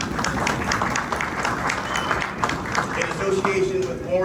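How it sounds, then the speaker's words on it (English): A crowd gathered at a stadium groundbreaking ceremony claps for the design-build team, a steady dense patter of applause sustained throughout at moderate volume. "Give them a big round of applause."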